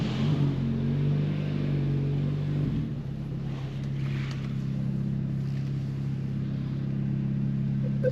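A Renault Mégane 4 RS Trophy pulls away for a road test, its engine a steady low drone inside the car with rumbling road and wind noise.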